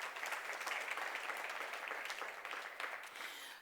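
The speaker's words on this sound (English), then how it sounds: "Let's give them a round of applause one more time." An audience claps at an academic colloquium, a steady dense patter of many hands that holds at an even level and then tapers slightly near the end.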